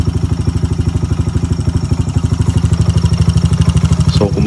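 Honda Wave 125 motorcycle engine with a Jack Speed power pipe, running in a loud, close, rapid-pulsed idle that speeds up slightly toward the end.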